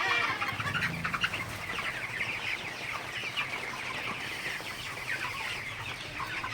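A flock of 32-day-old broiler chickens clucks and chatters while eating feed, a constant busy murmur of nearby birds.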